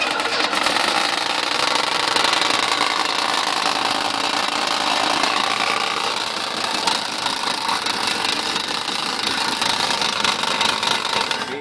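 A Ford engine runs loud and steady close by, a dense, continuous mechanical roar with a fast rhythmic pulse and slight wavering in level, with no voices.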